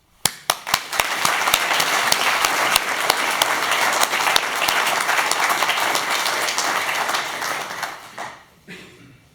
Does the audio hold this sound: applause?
yes